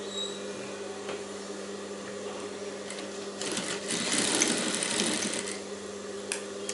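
A sewing machine stitches a blouse sleeve for a princess-cut blouse, running in a steady whirring buzz that swells louder through the middle stretch before easing back, with no voices.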